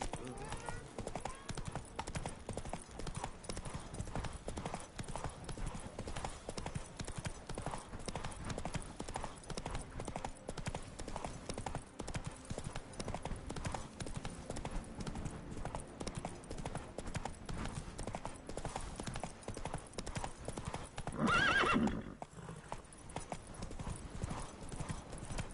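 Roach the horse gallops in The Witcher 3 with a continuous, fast clip-clop of hooves, loud and steady from start to finish. A voice speaks briefly near the end.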